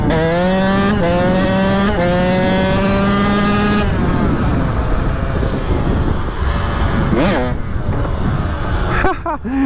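A KTM 85 motorcycle revs hard and close, its engine note climbing and dropping through quick gear changes before settling into a loud, rough roar.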